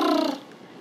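A person imitates a cat purring with a short, loud, rumbling burst that fades out after about a third of a second, alone with no talk.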